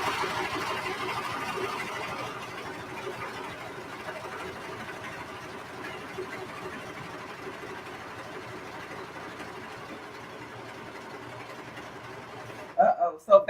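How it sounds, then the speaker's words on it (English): A serger overlocks thick denim jean fabric, layered with interfacing, at a steady slow speed, giving a continuous even whirring hum that runs unbroken for most of the stretch before a few louder knocks at the end. "I'm just gonna go at a steady, slow kind of speed because this is jean material. And sometimes the serger does not like all this thickness."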